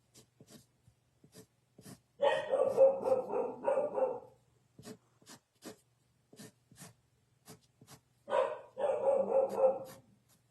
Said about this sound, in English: She likes to bark at things.